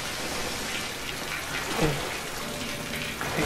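Water splashing in the Tomb Raider video game, a continuous wash of watery noise with a couple of brief splash accents, heard with no speech.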